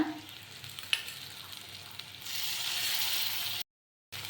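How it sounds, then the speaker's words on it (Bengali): Potatoes frying with ground peanut paste in a pan, a faint, steady sizzle with a few stirring clatters that grows fuller midway, then cuts to silence briefly before resuming. "বাদাম বাটাটা দিয়ে আমি ভেজে নিব।"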